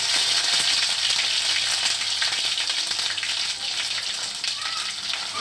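Ground ginger sizzles steadily in hot ghee in an iron kadhai, a loud, bright frying hiss that fades slightly toward the end.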